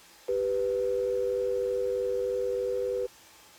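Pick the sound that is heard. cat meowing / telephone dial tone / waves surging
telephone dial tone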